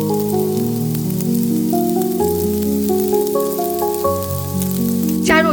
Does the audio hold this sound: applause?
no